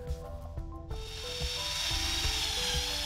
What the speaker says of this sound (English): So with everything still clamped in place, I just went ahead and started drilling.